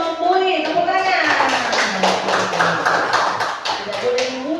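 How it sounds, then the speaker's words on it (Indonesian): A classroom of schoolchildren claps hands together on cue, a short burst of brisk, fairly loud clapping between children's voices and a teacher talking. "Tepuk tangan."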